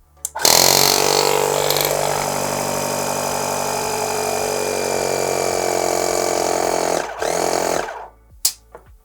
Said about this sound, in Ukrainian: Давайте перевіримо, як він працює і як спрацьовує функція автостоп.